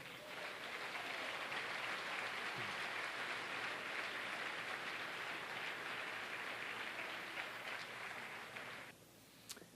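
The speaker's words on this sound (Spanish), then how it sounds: "Dale un aplauso al Señor." Church congregation applauding continuously, a dense, even patter of many hands that holds steady for several seconds before cutting off near the end.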